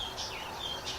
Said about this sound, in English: listening to the birds sing